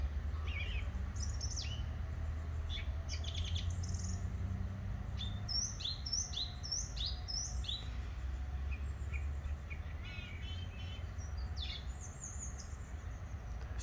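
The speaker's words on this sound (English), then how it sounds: "Listen to the bird noises." Birds chirping and singing in Wales, with repeated bright tweets and short song phrases over a low, steady outdoor background, moderately near and with no talking.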